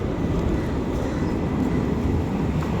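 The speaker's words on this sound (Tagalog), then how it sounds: "Doon na naman yung eroplano." An airplane passes overhead outdoors on a hot day, heard as a steady, broad rumbling drone that holds at an even level for the whole stretch, moderately loud and unbroken.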